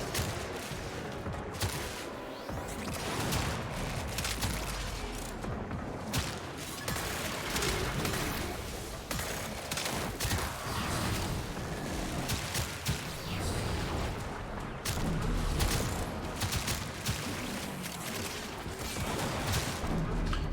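Turret gunfire in the Warframe shooter game, dense rapid bursts and crashing impacts sustained throughout, loud and chaotic with faint voices now and then.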